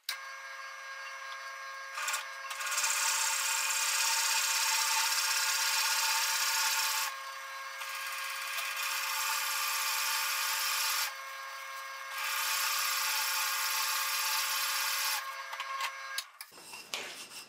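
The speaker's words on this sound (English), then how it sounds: "now I'm ready to start drilling. And this is a 3 1/4 inch diameter forceful bit." A 3 1/4 inch Forstner bit bores a hole about 1 1/4 inches deep into a wooden clock block, a steady loud grinding whir running in long stretches with brief dips between passes, then stopping near the end.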